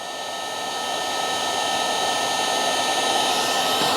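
A heat gun heats a solder stick connector, giving a loud, steady rushing hiss of hot air that holds unbroken from start to finish.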